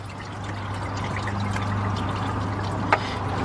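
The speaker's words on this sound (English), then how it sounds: "I hear the water coming out." Coolant water drains from the removed water pump of a 2005 Chevy Express G2500 with a 6.0 engine, a steady pouring trickle with a low hum underneath and one brief clink near the end.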